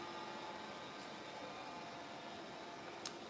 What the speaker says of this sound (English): My mom named him Jaws because he's a shark vacuum.